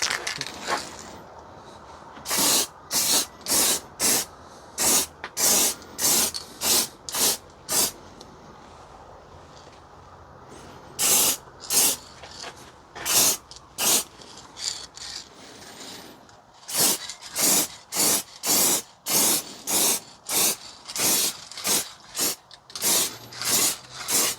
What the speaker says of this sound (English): lacquer up the handlebars and put another coat on here